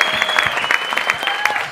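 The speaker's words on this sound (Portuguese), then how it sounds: "Aplausos pro Thiago Ventura, que vai começar o desafio de hoje" A comedy show audience claps briskly for comedian Thiago Ventura, a short burst of loud, close applause with individual claps standing out and a faint tone running beneath.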